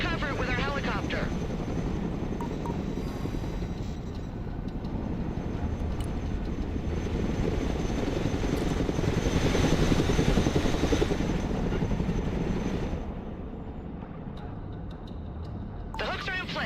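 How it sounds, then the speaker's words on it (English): A cargo helicopter in the Broken Arrow video game drones steadily with a loud, dense rotor and engine roar throughout, swelling slightly midway and easing near the end. "Let's go and recover it with our helicopter."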